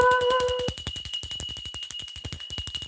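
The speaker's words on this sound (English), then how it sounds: "We're ringing the bell." An electric bell rings with a rapid, even rattle of strikes and a sustained metallic tone, loud and close.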